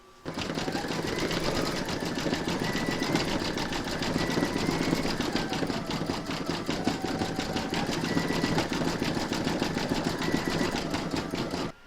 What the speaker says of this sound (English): Load your black thread into your machine and then stitch round number 4, and that's going to do the eyes and the mouth.